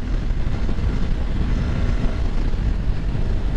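A KTM Duke 390 motorcycle engine pulls steadily in fifth gear, a constant loud droning roar with wind rush and no change in pitch, with no voices.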